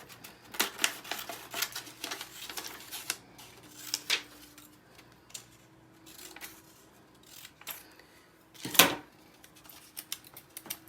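Scissors cutting paper shapes for a nest craft, a few separate snips and crisp clicks spaced out over a quiet background, with one louder sharp cut near the end.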